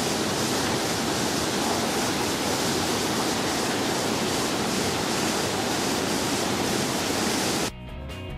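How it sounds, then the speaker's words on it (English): Lobodil waterfall in the Philippines roars as a steady, loud, dense rush of falling water, unbroken for most of the stretch before dropping off abruptly near the end. "Lobodil waterfall puts out some cold water"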